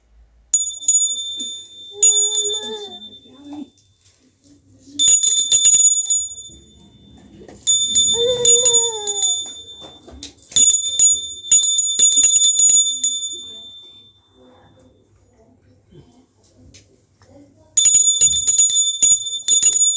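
A small hand bell rings in repeated bursts of bright jingling during a Mahashivratri worship at home, with quiet gaps between, alongside faint background voices and shuffling.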